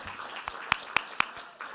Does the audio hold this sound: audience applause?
yes